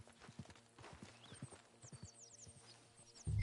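Horse hooves clip-clop at a steady walking rhythm in Red Dead Redemption 2, moderately close and soft, with a faint whinny over the top and a sudden loud thump at the end.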